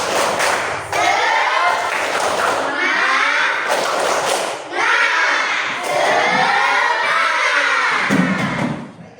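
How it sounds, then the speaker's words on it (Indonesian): Schoolchildren in a classroom perform the 'tepuk semangat' clapping chant, loud massed young voices shouting in rhythm with sharp claps and thumps, continuous and close for the whole stretch. "sekarang kita tepuk semangat"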